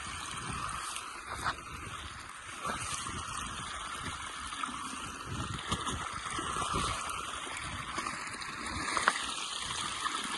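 Floodwater after heavy rain pours steadily through a slipped earth bank at the edge of a field, a continuous close rushing and gurgling of water with no pauses.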